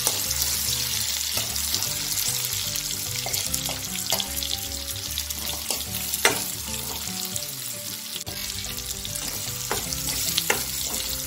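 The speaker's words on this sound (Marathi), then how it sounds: "वांगी तेलामध्ये छान फ्राय होऊ द्यायची आहे।" Eggplant pieces fry in hot oil with garlic paste and turmeric, a steady close crackling sizzle with occasional sharper pops and light stirring clatter, no one speaking.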